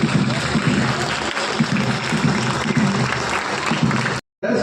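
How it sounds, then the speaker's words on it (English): Crowd on a sports field at an Independence Day celebration in Bangalore applauding marching contingents, a dense, steady roar of clapping that holds for about four seconds before cutting off abruptly. "Let's give one more round of applause to our marchers."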